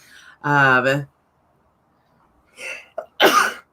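A single sneeze bursts out after a short voiced sound and a pause, close and fairly loud in an otherwise quiet room.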